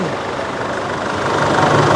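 A four-cylinder car engine idles loudly and steadily up close, its low uneven running from only two or three cylinders firing.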